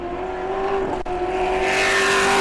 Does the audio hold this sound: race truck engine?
yes